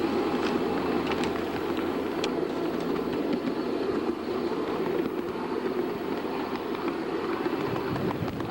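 A miniature live steam train rumbles steadily along the track with a faint clickety-clack, while birds chirp and coo in the background.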